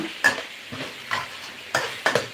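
A spatula scrapes and tosses holy basil, liver and dried chilies in a hot pan in a series of sharp stirring strokes, about five clanks over a couple of seconds with a low sizzle beneath.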